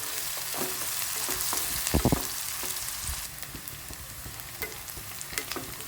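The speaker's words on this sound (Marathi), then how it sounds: "आता कांदा छान मऊ होईपर्यंत आपण हे परतून घेणार आहे" Chopped onion sautéing in oil in a pan for a rustic Maharashtrian pithla, with a steady close sizzle and a few sharp spatula scrapes and clanks as it is stirred.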